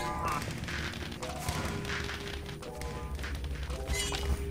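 Firework explosions in the Minecraft Dungeons video game, a rapid, chaotic run of bangs, cracks and thuds that continues throughout at moderate loudness over game sounds.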